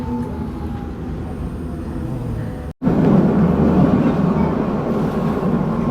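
Zugspitze cog railway train beginning its climb from the Austrian side into Germany, a steady low rumble and rolling rail noise throughout, briefly cutting out midway then returning louder and close.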